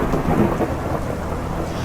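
A thunder crash rolls as a deep, loud rumble with rain hiss beneath it, a brief dark storm effect in a Spanish-language horror story.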